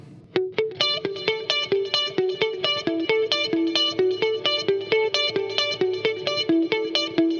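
Electric guitar through a Fractal FM3/FM9/Axe-Fx III modeler picks out a fast, repeating pattern of bright notes, each ringing into a long, washy reverb tail that blurs the rhythm.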